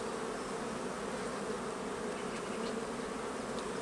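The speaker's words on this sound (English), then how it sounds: "let's see how the bees are doing in drawing these" Honeybees hum steadily at an open polystyrene hive body during a Bailey comb change, a dense, even buzz of many insects close by with no talking.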